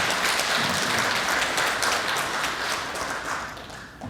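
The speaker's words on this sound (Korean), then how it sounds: "우리 아이들 격려 박수 한번 하겠습니다." A church congregation claps in encouragement for the children during a Korean worship service, a dense steady patter of many hands filling the room and tapering slightly near the end.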